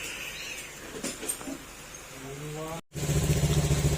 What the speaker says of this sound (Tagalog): Ito mga sat, napandar natin yung makina.